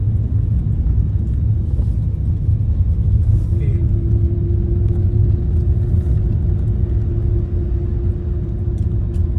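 Vehicles queued on a landslide-hit national highway between Kohima and Imphal, a steady low engine rumble of idling and slowly turning traffic, continuous and close, with a faint passing tone midway.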